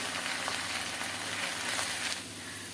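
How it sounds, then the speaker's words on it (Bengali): Spices and egg curry masala fry in a pan with a steady, close sizzle that holds evenly throughout, no voices present. "কিছুটা সময় ভাজাভুজি করে নিলাম।"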